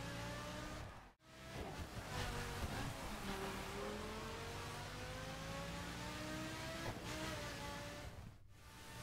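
A Lamborghini Huracán LP610-4 drives on a road in The Crew, its engine holding a steady, sustained drone with gradually rising pitch, a brief cut near the start and another near the end.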